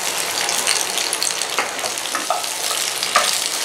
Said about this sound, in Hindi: इस तेल में शिमला मिर्च डाल देंगे, तेल के साथ शिमला मिर्च को चला लेंगे।